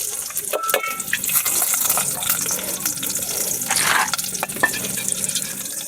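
Onions, chillies and curry leaves frying in hot oil for a curry of eetha insects, a steady close hiss with scattered crackles and stirring scrapes, mixed with background noise and a voice talking.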